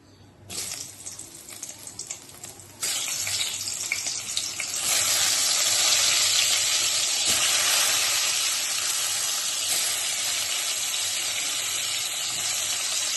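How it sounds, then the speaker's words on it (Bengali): Spiny gourd (kakrol) frying in ghee in a kadai gives a steady, close hiss of sizzling that swells and stays loud, with no talking. "এবার আমি ভেজে নেবো কাঁকরোলটা। কাঁকরোল আমি সবসময় ঘি দিয়েই ভাজি।"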